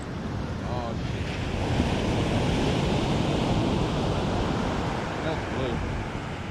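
Big ocean waves on a Florida beach roll and wash in a steady, loud roar, heavy wind buffeting the microphone throughout.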